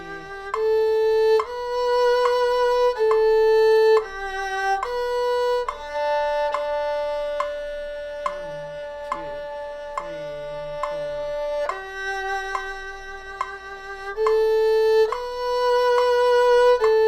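An erhu plays a melody in G at a slow tempo of 70, with clear, sustained bowed notes and changes of pitch. It is heard solo, close and at moderate volume, with no talking.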